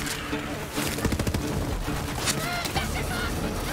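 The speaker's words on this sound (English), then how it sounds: "Nice explosion." Rapid gunfire crackles through a Borderlands 3 firefight, with bursts of shots and a booming explosion in dense game combat noise, loud and continuous.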